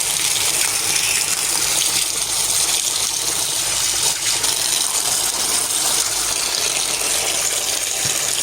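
Tap water runs steadily over cauliflower being washed, a loud, even gushing stream close by with no pauses or voices.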